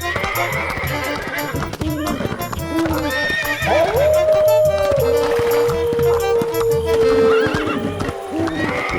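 Cartoon horses, stolen ones in an animated Hindi crime comedy, give a long whinny over a steady clip-clop of hooves, loud and close, with music and voices running beneath.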